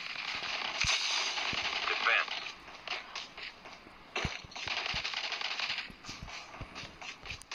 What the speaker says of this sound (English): Here I hear shots, I hear shots.